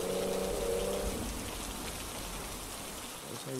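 Steady rain pours down in a dense, even hiss, with a faint low hum underneath at the start.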